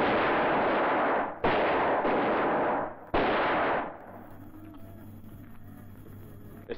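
Three loud, close pistol shots, each followed by a long echoing roar, fire in quick succession, then fade into a low ambient rumble.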